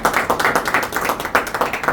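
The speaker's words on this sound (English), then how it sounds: "huge round of applause for" A club meeting audience gives a short round of applause, with dense, rhythmic clapping that swells and pulses for a couple of seconds at moderate loudness, with no voices over it.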